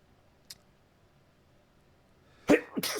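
A person sneezes during a podcast conversation: a faint short burst early on, then a loud, sharp close-up sneeze followed by a second explosive burst near the end, with quiet room tone between.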